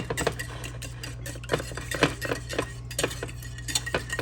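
In a pan, eggs are scrambled with avocado, giving close, irregular clinks and scrapes of a utensil against cookware over a low steady hum, with no talking.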